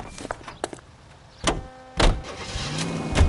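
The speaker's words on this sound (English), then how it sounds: "Get in and drive." A 1940s car in L.A. Noire, heard as sharp door clunks and thumps, then a rising engine note pulling away near the end, loud and close with no voices.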